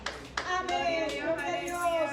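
A church congregation claps hands in unison as an offering of praise during a Spanish-language service, a steady stream of applause with sharp onsets and a sustained tonal voice or music running underneath.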